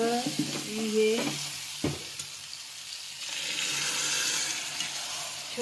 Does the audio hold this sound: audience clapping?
no